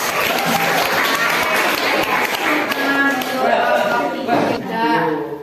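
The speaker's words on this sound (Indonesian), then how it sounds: "Oke, tepuk tangan untuk kelompok tiga." Classroom children clap for a student group, a loud, uneven burst of many small hands with overlapping young voices and shouting mixed in.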